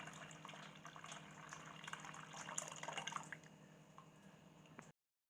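Rice water strained and poured into a batter of ground rice and coconut milk for Kerala kalathappam, a quiet continuous trickle and splash of liquid lasting about five seconds, close up and alone.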